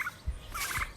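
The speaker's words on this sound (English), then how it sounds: "And the turkeys are easy to catch." Yard turkeys kept alongside chicken hens let out two quick, rattling gobbles in close succession, nearby and fairly loud, with no talking.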